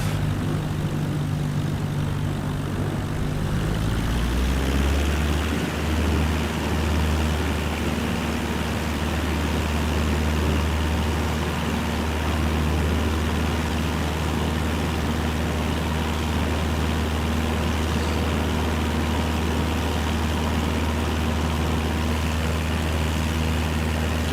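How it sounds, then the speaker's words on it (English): Airliner in Microsoft Flight Simulator 2020 taking off from runway 20 at ESGG, its engines spooling up after a few seconds into a steady, loud, continuous roar with a low drone and a sustained whine above, heard alone without talk. "Okay, I will do a proper takeoff."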